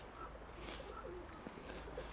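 Soft pigeon coos come in a few short low calls over steady background noise, faint and a little distant.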